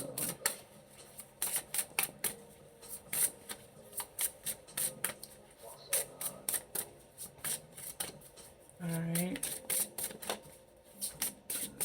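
Tarot cards are shuffled close up in rapid bursts of crisp riffling and slapping, with quiet gaps between rounds and a brief spoken remark near the start.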